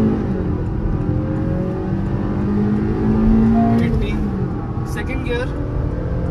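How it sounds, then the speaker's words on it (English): A Honda Elevate's engine holds a steady rev near 4000 RPM, then launches from standstill and pulls through gears in a 0 to 100 km/h run, a loud, rising whir heard from inside the cabin. "revving the motor, rev still 4000 RPM, and off we go."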